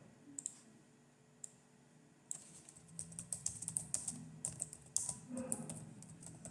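Typing on a laptop keyboard, close crisp key clicks that start sparse, then pick up into quick irregular bursts over a quiet background.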